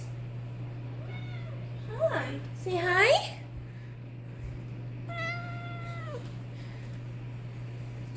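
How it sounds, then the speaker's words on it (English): A cat meows loudly several times, its cries rising and falling, while a person speaks briefly over a steady low hum. "my cat is screaming at me"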